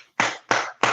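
Small group applause welcoming a new fourth member into a live reseller locker room, three sharp, close bursts of clapping in quick succession, each decaying before the next, with no talk.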